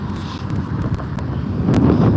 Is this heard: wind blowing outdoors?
yes